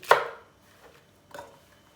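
Two crisp knife chops through peppers on a cutting board, spaced about a second apart, close and fairly quiet with silence between.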